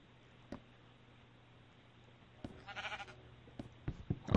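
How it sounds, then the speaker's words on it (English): A single wavering Minecraft sheep bleat rises midway, surrounded by scattered clicks and soft taps over a low steady hum. "there is a sheep in our front door."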